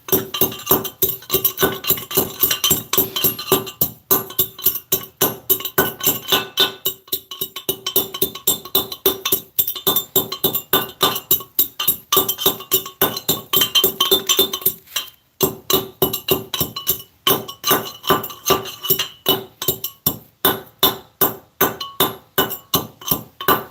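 A gold ore rock sample is pounded in a dolly pot, giving a loud, rapid, metallic clinking that repeats steadily for the whole stretch, with one brief pause midway.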